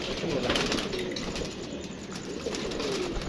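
Rooftop pigeons coo softly while wings flap in brief bursts, close and fairly loud, with a voice heard faintly alongside.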